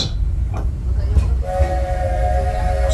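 A Disneyland Railroad train rolls along with a steady low rumble, and a sustained whistle-like tone rises partway through and holds to the end.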